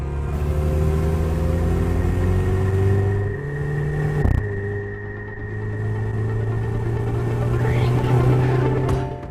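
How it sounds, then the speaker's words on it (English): A new Mini Clubman engine drones and revs under hard acceleration from inside the cabin, a steady rising note with a brief dip and thump midway before it climbs again. "The engine note, though, maybe isn't my favorite, especially when you're really wailing on it"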